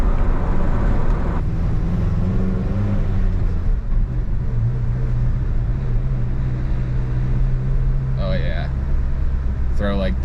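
A truck engine, newly fitted with a clutch, idles steadily with a low rumbling drone. Faint clanks are heard toward the end.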